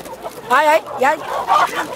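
A chicken clucks at a busy market on the eve of Easter, giving a few short bursts of clucking amid people talking nearby.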